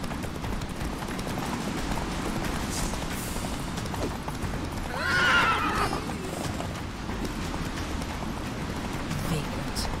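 Roach, a horse in a video game, gallops with a steady clip-clop and gives a loud whinny midway, under continuous game sound and a voice talking.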